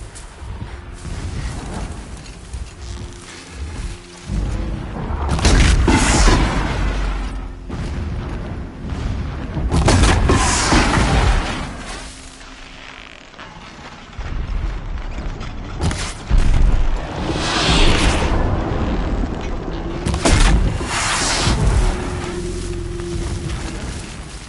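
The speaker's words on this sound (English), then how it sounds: "Explosions in the distance." Deep, rumbling booms roll in at intervals across the open world of Horizon Zero Dawn, several heavy explosions swelling and fading, distant but forceful, with no talk over them.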